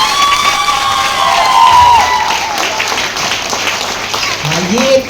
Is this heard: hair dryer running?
no